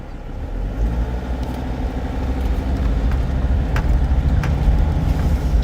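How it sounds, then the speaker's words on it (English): A diesel van engine runs steadily at close range, a dense, loud low rumble with a gritty idle texture and faint clicks above it, building slightly in strength over a few seconds with no voices. "sure sounds like a diesel"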